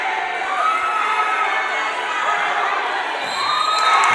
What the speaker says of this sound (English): listen to the excitement in the crowd